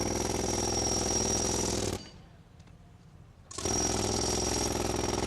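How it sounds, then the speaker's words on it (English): A demolition hammer pounds a marble mausoleum in rapid, loud, continuous hammering, cutting out for about a second and a half before resuming at full force. "Under the demolition hammer, the marble mausoleum of the Shah's father."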